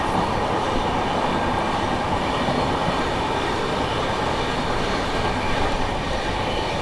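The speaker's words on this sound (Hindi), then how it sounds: "बस मुंबई में एंटर होते ही शुरू लोकल ट्रेन के साथ में रेस" A Garib Rath express rolls at speed alongside a Mumbai local train, giving a steady loud rumble of wheels and carriages with faint rhythmic clatter throughout.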